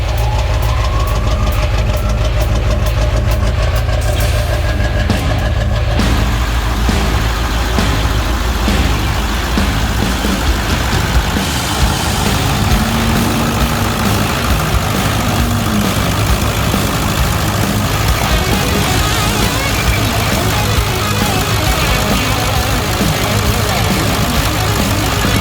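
A 2001 Ford F350 with the 7.3 diesel engine idling, a loud, steady low rumble with a knocking clatter running throughout, under intermittent talking.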